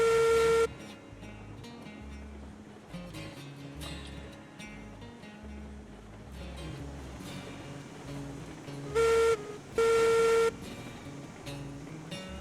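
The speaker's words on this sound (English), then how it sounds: "I guess I'm in the sound the whistle kind of mood tonight." Two short, loud steady-pitched train whistle blasts in a video game, one near the start and a pair close together later, over a busy looping game soundtrack.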